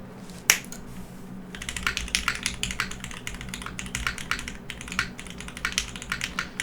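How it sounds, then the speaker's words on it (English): Typing on a custom mechanical keyboard with retooled Cherry MX Black switches and a brass plate: a fast, even run of close keystrokes after a single sharp click at the start, with no talk. "You can hear the depth of the keyboard, just like how the Keycult sounds"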